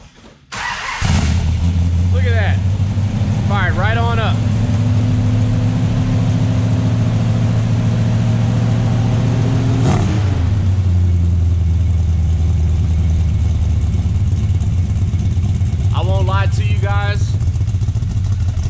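A Mopar big block V8 in a 1970 Dodge Charger cranks and fires, then settles into a loud, lumpy idle with a sharp rev midway; voices talk briefly over it.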